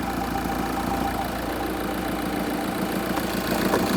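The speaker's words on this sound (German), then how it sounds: "So, der Motor ist einigermaßen warm." A warm car engine idles steadily with a low, even rumble, close by and unchanging, no voices present.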